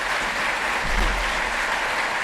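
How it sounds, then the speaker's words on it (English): An audience at the Tropentag 2015 conference applauds the speaker, Bernard van Lauwer, with a steady, dense wash of clapping lasting a couple of seconds, a low rumble beneath it. "A big applause for Bernard van Lauwer."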